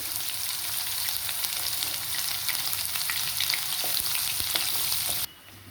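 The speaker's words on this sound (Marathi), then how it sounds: "जिरं आणि हा बारीक चिरलेला कांदा. कांदा मस्तपैकी तळून घ्यायचा आपल्याला." Finely chopped onion frying in hot oil with cumin and mustard seeds, a steady close sizzle with faint stirring scrapes throughout that drops away sharply near the end.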